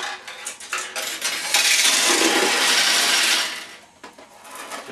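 A cascade of steel pachinko balls pours out of the receiving tray of a Heiwa pachinko machine, a loud, continuous metallic rattling and clinking that swells, holds steady for a couple of seconds, then thins out.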